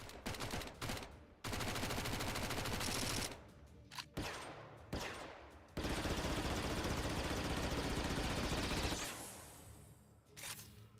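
Rapid bursts of CR2 Heavy Repeating Pistol fire from a Naboo Royal Forces weapon in a video game, loud sustained volleys broken by short pauses across the whole stretch, with no talking.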